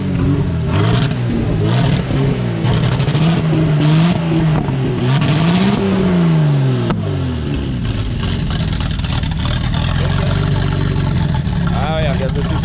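A Citroën Traction fitted with a V12 bi-turbo engine revs hard and loud, with repeated rising and falling engine sweeps up close, then settles into a rough, steady roar.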